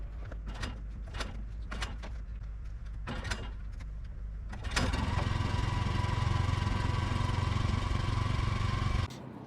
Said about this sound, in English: I have noticed some complaints on starting these engines when it's cold, these Kohler engines.